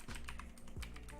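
Computer keyboard typing at a desk during a long coding session, a quick irregular patter of key clicks alone with no talk, close and fairly quiet.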